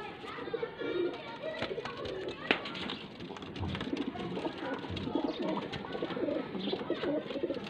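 Pigeons of a breeding pair kept for sale in Faisalabad coo softly in repeated low murmurs, close but quiet, under someone speaking and some background activity.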